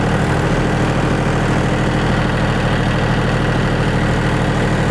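A DTZ 354U tractor engine running steadily at about 1500 rpm, a loud, close, even diesel rumble with a constant low throb and no talking.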